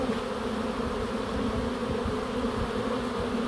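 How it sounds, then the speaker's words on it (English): A honeybee swarm buzzes in a dense, steady drone close by, many wings humming together without pause. "I'm not concerned at all about getting a handful of these bees."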